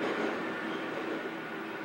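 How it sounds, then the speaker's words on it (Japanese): A subway train ride in the video game Hayarigami Revenge, a steady rumbling rolling noise of carriages moving underground, continuous and fairly loud with no voices. "地下鉄に乗ってるのかな"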